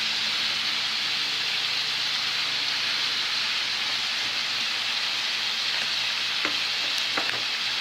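Chopped, cleaned green onions sizzle steadily in a hot frying pan, a loud, even crackle with a few sharper pops near the end, no voices.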